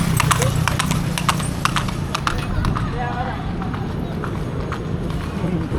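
Hooves of a horse clip-clop on a city street at night in Binondo, a quick steady beat up close over constant traffic rumble and crowd noise.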